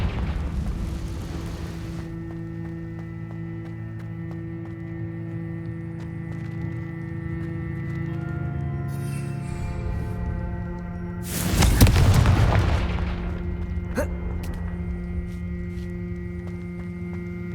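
A Confringo blasting spell explodes in Hogwarts Legacy, a single loud burst near the middle that rises over a steady droning game background with musical tones, then fades back into the ambient hum.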